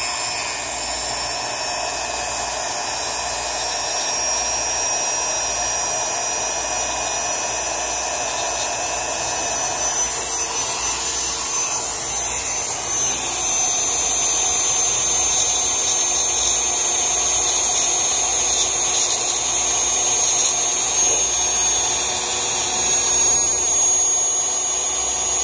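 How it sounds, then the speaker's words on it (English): A Dremel rotary tool grinds drilling burrs off a drilled piece, a steady high-pitched whine that holds for the whole stretch with slight changes in pitch and load as it bites. "use my trusty Dremel and get rid of some of these burrs that start sticking out due to drilling it"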